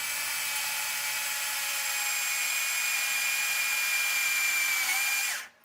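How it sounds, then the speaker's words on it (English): An electric drill with a 3mm bit bores a hole through carbon fiber, a steady high-pitched whine held for about five seconds before the motor abruptly spins down and stops. "And drilling one hole up from that."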